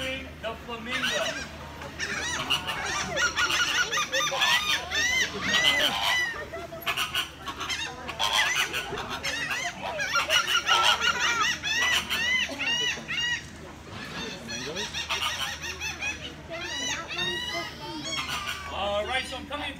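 A flock of flamingos at a zoo pond keeps up a dense, loud chorus of overlapping honks and goose-like calls without a break.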